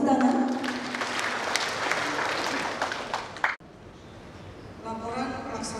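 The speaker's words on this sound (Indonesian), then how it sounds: "Boleh kita berikan tepuk tangan?" An audience claps at an official public-service event on intellectual property in East Nusa Tenggara, a dense round of applause that cuts off abruptly midway, after which a voice speaks.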